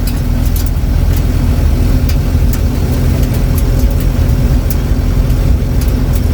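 A 1953 Willys Overland pickup engine runs steadily while the truck drives on the road, a loud, continuous low rumble with an even drone and some rattling throughout, no talking.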